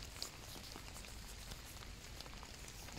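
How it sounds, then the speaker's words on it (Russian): Rain falls steadily during a wartime-relics metal detecting dig at a farmstead, a constant soft hiss of drops on wet ground and mud, close and even throughout with no talking. "сегодня под дождем копаем"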